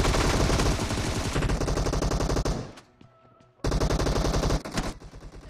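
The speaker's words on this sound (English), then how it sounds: "Aim and fire and keep going in the cover." Bursts of rapid automatic gunfire in PUBG Mobile team deathmatch, loud and close, rattling for over two seconds, breaking off into a brief lull, then resuming in another hard burst that thins into scattered shots.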